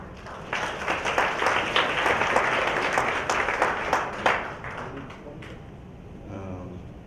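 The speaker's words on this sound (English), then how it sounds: "So big round of applause please for Sanphasak." An audience at a business summit breaks into applause that swells, holds for several seconds, then thins out into scattered claps and fades.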